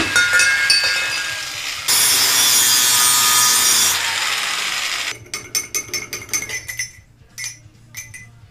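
Metal exhaust tubing being cut into angled pieces for a Subaru-swapped Vanagon exhaust: a steady loud saw whine and harsh grinding cut, then a series of irregular scraping, rasping strokes near the end, with no talking.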